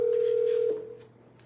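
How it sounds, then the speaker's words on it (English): A telephone line emits a single steady electronic tone for under a second that cuts off abruptly, followed by faint quiet line noise and a low hum. "Triple dial, quadruple dial."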